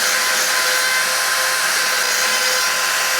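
A grinder sharpens the teeth of a bandsaw blade still under tension on the bandsaw, a loud, close, steady high grinding hiss that runs unbroken throughout.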